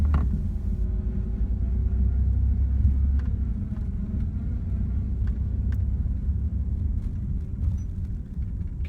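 A 1994 Dodge Dakota pickup with a transmission fault idling: steady low engine rumble, close and constant, with a faint thin whistle riding above it and occasional small clicks.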